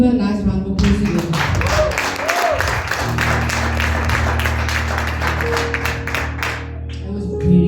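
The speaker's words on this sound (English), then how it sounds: "Can we give her a nice round of applause again?" A crowd gives a round of applause for someone speaker after she shares her story, dense clapping over several seconds with a sustained musical tone underneath.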